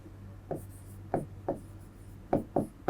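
Chalk or marker strokes on a board while working out a class 10 circle geometry problem, five or six short scratchy strokes in an irregular rhythm, close and fairly quiet, with no speech.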